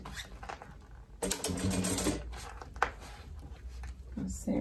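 Domestic sewing machine stitching a thermal bag made from milk cartons, a dense mechanical run of stitching noise over the middle stretch, with someone talking nearby before and after.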